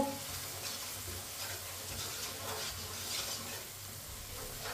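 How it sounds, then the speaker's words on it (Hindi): Red chili powder, turmeric and ground coriander fry in a pan for aloo gobhi, a faint, steady sizzle with light stirring noises. "आधे मिनट के लिए पका लेंगे मसालों को"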